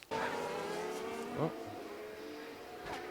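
Simulated Formula 1 car engine in F1 Manager 22 at Bahrain, revving hard as the car spins under acceleration, a steady high engine whine with a brief rising squeal midway, moderately loud and without talk.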